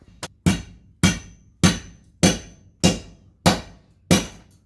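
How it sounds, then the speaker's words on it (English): Sharp metallic strikes of a Force hammer on copper tubing, seven blows at a steady, even pace, each ringing briefly before the next. "I use Force hammer, and this thing is brilliant."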